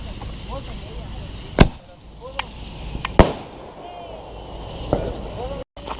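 A 48 shot shooting star firework goes off outdoors at a Fourth of July gathering, with sharp launch pops, a rising whistle and crackling bursts at irregular intervals, fairly close, while people talk in the background.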